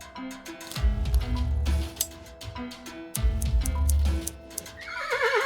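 A video game horse whinnies loudly twice in close succession, each neigh with a deep snorting onset, followed by clip-clop hoof sounds and a fainter chiming tone at the end.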